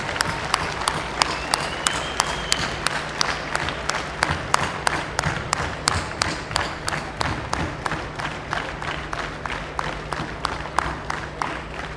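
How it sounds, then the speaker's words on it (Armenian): A university audience at a 2016 Yerevan State University honoring and freshman oath ceremony gives a standing ovation: steady, loud applause that settles into a regular rhythmic beat of synchronized clapping and continues throughout. "եկեք մեկ անգամ ևս հոտնկայց ծափահարենք մեր այս հերոս տղաներին"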